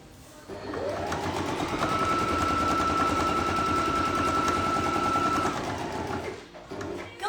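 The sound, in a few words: sewing machine stitching forward and backward on fabric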